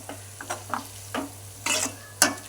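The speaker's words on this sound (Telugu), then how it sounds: "ఇప్పుడు దీన్ని ఈ విధంగా మంచిగా ఫ్రై అవ్వనివ్వాలి ఒక 5 minutes." Shana fish frying in a pan, with a steady sizzle broken by several stirring scrapes and clinks, close and fairly loud, with no one talking.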